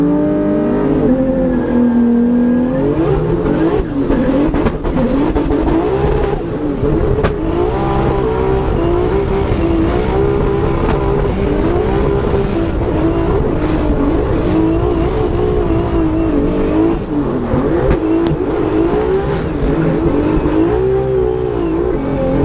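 Drift race cars at Formula Drift Orlando roar continuously at close range, engines revving hard and surging through gear changes, with tire squeal woven into the dense, loud engine noise.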